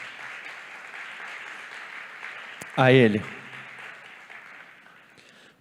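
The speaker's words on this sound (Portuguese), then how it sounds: "Dê uma salva de palmas ao Senhor" Applause from a church congregation during a sermon, a soft, spread-out clapping that runs beneath a brief burst of the preacher's voice and then trails off.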